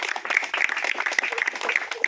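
Brief applause from an audience at a tree-planting event, a steady patter of clapping with voices mixed in.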